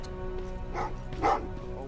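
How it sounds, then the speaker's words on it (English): Dogs bark and yip in the video game Terminator Resistance, two or three short barks at mid distance over a low steady hum, with a voice speaking. "What's with the dogs?"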